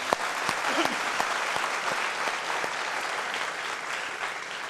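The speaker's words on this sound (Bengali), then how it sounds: "জোরে আমরা তাদের জন্য একটা তালি দিব সবাই" Audience at a university mock parliament event clapping together, a dense, sustained round of applause that holds steady for several seconds, close and full.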